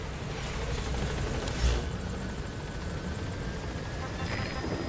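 Helicopter rotor drone in Metal Gear Solid V: The Phantom Pain as it approaches a landing zone, a steady continuous thrum with radio voices talking over it.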